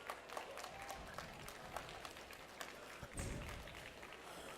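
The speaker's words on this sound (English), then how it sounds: "Let's get a huge round of applause for all of our sponsors." An audience at the Beach Blitz 2022 event applauds its sponsors, with fairly faint, distant clapping spread across a large space and a few louder bursts.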